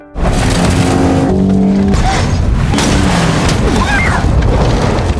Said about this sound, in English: he hops into a police car and floors the accelerator, speeding away